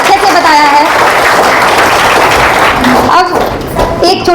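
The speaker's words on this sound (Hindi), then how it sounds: "बार शानदार वाली तालियां कुशलता देवी जी के लिए" Audience applause at a women's gathering, a steady wash of clapping that fills the clip, loud and close, with a voice speaking over it.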